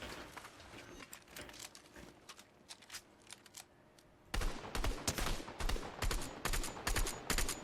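Rapid gunfire in Fortnite, aimed at a rock to break it, rattles off in quick bursts that grow louder and denser halfway through, with no talking over it.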